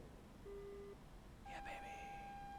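Missile launch warning tone in the Su-25T flight simulator game: a short electronic beep, a pause, then a longer sustained tone with a brief burst of noise, all faint and with no talk.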